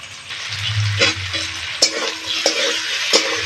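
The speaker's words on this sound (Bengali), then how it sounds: "নেড়ে নেড়ে হলুদটা মিশিয়ে নেবো আলুটার সাথে" Potatoes with salt and turmeric powder fry in a pan, a gentle steady sizzle cut by several sharp scrapes and knocks of a spatula as they are stirred, close and fairly loud.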